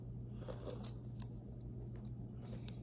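Feeder wire insulation being cut during stripping, heard as a few faint, sharp snips and crunches scattered over a steady low electrical hum in a quiet room.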